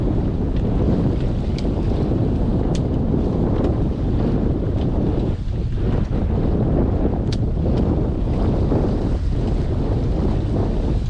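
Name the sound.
wind on a sailboat hove to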